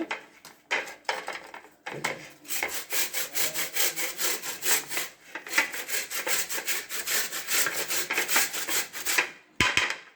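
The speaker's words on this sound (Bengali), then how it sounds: "আমি দেখিয়ে দিচ্ছি কিভাবে আমি ঘষে ঘষে মিষ্টিটাকে নিচ্ছি" Sweet jaggery being grated by rubbing it against a blade for bhapa pitha, giving repeated close scraping strokes in a steady back-and-forth rhythm with brief pauses.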